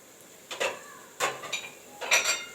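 Chicken pieces go into a hot pan for a chicken and zucchini tray bake, giving three short bursts of clattering and sizzling contact against the pan, close and fairly quiet, with no talking.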